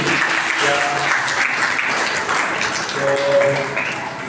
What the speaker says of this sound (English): Please give me a round of applause for him.